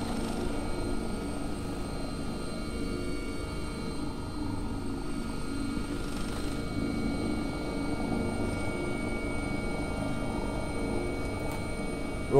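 An AW-139 helicopter in the X-Plane 11 flight simulator, its rotor and engine making a constant, even drone with a steady whine running throughout, loud and close, with no talking.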